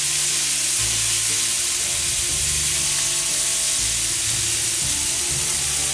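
Italian sausage and vegetables fry in oil on a hot Blackstone griddle, making a constant close sizzle with a few soft scrapes and thumps of stirring underneath, and no voices.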